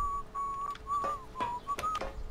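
A person whistling in the survival video game DayZ, a tuneful series of short sustained notes repeated about six times over a couple of seconds, with faint ticking clicks underneath.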